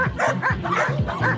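A very young female Belgian Malinois barks in a quick run of close, loud yips and bow-wows during protection training, with no talk over it.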